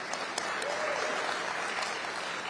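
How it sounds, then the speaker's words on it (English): Applause from the audience at a Democratic candidates' political forum in Virginia, a steady moderate wash of clapping that stays fairly even, slightly distant in the room. "Y'all clap on that"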